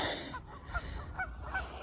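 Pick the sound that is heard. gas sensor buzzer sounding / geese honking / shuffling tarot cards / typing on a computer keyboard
geese honking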